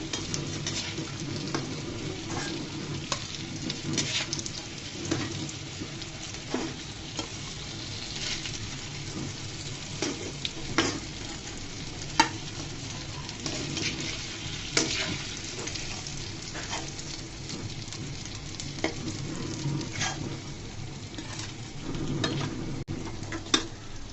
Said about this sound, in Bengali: যেগুলো ভাজা হয় না সেগুলোকে উল্টিয়ে ভেজে নিচ্ছি